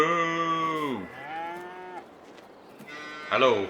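Cows in a farming video game moo loudly and close up, three drawn-out lowing calls with short pauses between them and no talk over them.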